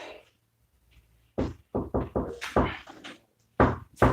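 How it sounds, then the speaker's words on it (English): Someone knocks on a door in a series of irregular knocks and thumps, some single and some in quick clusters, fairly close and loud against near silence. "someone at the door"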